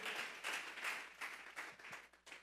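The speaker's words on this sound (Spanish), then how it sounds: "vamos a regalarle ofrenda de palmas al Dios de la gloria" A church congregation clapping together as an offering to God, steady rhythmic handclaps repeating about every half second, moderately faint and heard from a distance.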